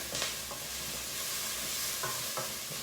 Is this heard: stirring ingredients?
yes